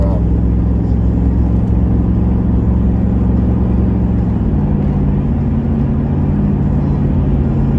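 A Ram pickup truck cruises with a loud, steady engine drone and road rumble, its pitch dropping partway through as the transmission shifts into overdrive, while someone speaks over it.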